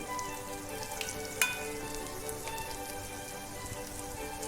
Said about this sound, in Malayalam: നല്ലോണം വഴക്കാം.